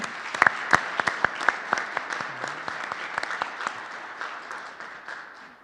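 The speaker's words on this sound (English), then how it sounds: "Let's give her a round of applause." A round of applause at a school board meeting, a modest burst of clapping with a few sharp, distinct claps up front that thins and fades over several seconds.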